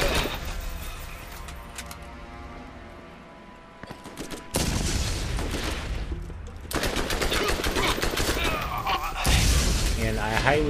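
Rapid automatic gunfire crackles in the Borderlands Circle of Duty arena while enemies are picked off, with bursts swelling louder and denser partway through as a voice talks faintly underneath.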